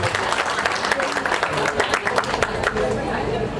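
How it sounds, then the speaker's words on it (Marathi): Wedding reception guests clapping loudly for the groom Pratik, a dense burst of hand claps mixed with crowd chatter and voices, steady and close for the whole few seconds. "जोरदार टाळ्या झाल्या पाहिजेत प्रतीकसाठी"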